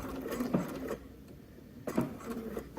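A sewing machine stitches across the bottom of an X on a shirt, two quiet bursts of rapid mechanical whirring separated by a short pause.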